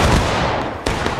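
Musket volley in a Civil War game set in Antietam's East Woods, a loud ragged burst of gunfire with a second sharp crack near the end, close and alone.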